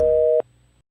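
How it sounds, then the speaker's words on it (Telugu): A telephone line tone plays while a call is on hold and goes unanswered: a loud, steady electronic tone holds for under half a second, then cuts off abruptly, leaving a faint low hum. "The person you are speaking with has put your call on hold."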